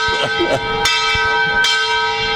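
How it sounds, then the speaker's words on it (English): A large church bell rings loud and close, its long sustained tone humming steadily with repeated struck strikes, carrying over faint outdoor background noise. "Oh, that bell is beautiful, boy."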